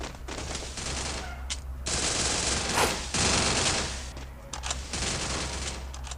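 Bursts of automatic gunfire in a Free Fire 4v4 battle royale match ring out, loud rapid volleys with short gaps between them and no talk over the shooting.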